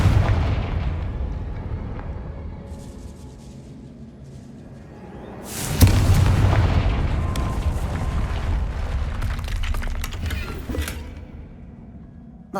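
A Confringo fire spell in the video game Hogwarts Legacy bursts with a single sudden loud blast midway, followed by crackling, rumbling debris that fades out.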